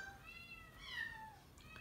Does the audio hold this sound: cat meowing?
yes